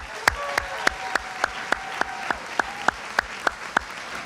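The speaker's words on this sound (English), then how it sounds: "A round of applause for these education professionals." Slow, evenly spaced handclaps, about a dozen in steady rhythm, ring out at an award ceremony honouring education professionals, with no voices over them.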